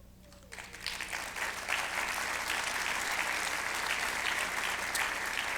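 A crowd bursts into steady, dense applause at a city address, starting after a brief quieter moment and holding loud and even without talk over it.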